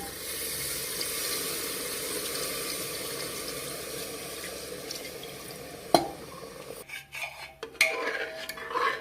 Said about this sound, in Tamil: இப்போ நான் ஊற்றுறது தேங்காய் பாலும் தண்ணியும் கலந்ததுங்க